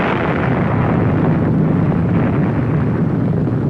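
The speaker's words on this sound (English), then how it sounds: "In the heat and force of massive explosions" A massive explosion unleashes a loud, sustained roaring rumble that fills the whole stretch without a break, dense and heavy at the low end.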